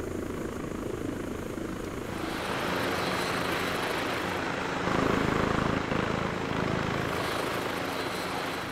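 A civilian helicopter flies in the military shooter Arma 3, its rotor and engine roaring loud and steady throughout, swelling briefly midway, with no talking.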